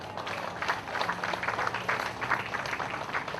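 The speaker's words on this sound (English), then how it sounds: "Let's give them a round of applause" Applause from an outdoor Independence Day fair audience in Palau, a fairly quiet, even patter of many hands clapping at some distance, sustained throughout.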